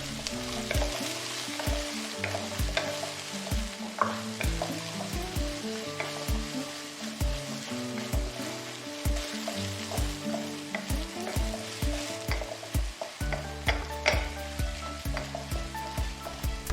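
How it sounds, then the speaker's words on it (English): Garlic, carrot and zucchini stir-fry in a wok for zucchini egg fried rice, with a continuous crisp sizzle and a quick, steady run of spatula scrapes and knocks throughout, near and without voices. "Stir fry for 2 to 3 minutes."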